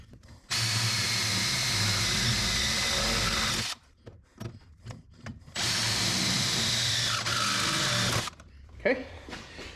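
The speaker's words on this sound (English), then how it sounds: "Drill our last two holes." A power drill whirs loudly in two long bursts while drilling holes in a first-generation Dodge D250 Cummins truck for a HydroBoost conversion, separated by short clicks and handling noises, close to the microphone.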